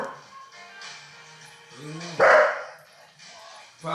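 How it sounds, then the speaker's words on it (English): A pet dog named Paco barks indoors in a home, a couple of short sharp barks and yelps rising over quieter room sounds, with a person talking nearby. "Why is he barking?"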